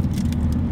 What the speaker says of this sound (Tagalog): Tricycle. Yan ang tinatawag na tricycle.